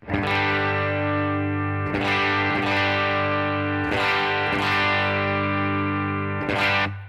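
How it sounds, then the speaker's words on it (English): Electric guitar with a higher-output pickup, heavy bass and highs and scooped mids, played through distortion: several loud sustained chords struck one after another, ringing thickly between strums, up close with no voices. "it was kind of a higher output pickup. Definitely has a lot of bass, a lot of highs, but a little less mids."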